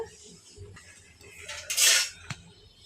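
A spoon stirring boiling rice in a pot during home cooking, with soft scraping and a louder metallic sweep against the pot, followed by a single light clink, over a low background murmur.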